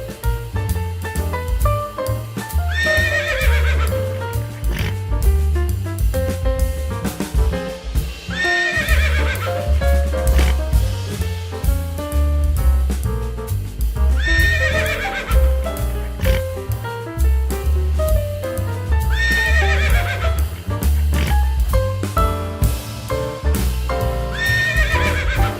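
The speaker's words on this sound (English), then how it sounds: "Horse." Horse neighing and whinnying with clip-clopping hooves, repeated several times over a steady, loud music-like backdrop with rhythmic low thumps.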